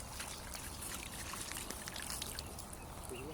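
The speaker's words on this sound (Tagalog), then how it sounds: "nilalagyan ni Buning ng tubig para mabuhay." Water poured or trickling onto small tilapia at a desert fish pond, a steady close splashing dribble with no talk over it.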